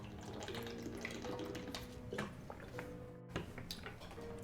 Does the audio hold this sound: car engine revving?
no